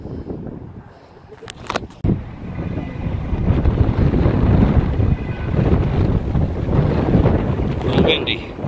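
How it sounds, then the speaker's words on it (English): Strong wind buffets the microphone outdoors at St. Augustine, a steady loud roar of gusts that swells after a brief lull, with faint talk underneath. "A little windy."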